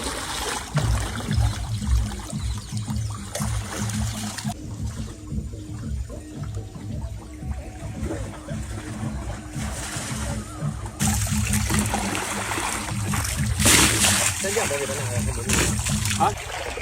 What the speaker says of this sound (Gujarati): નેચરલ ઝરણું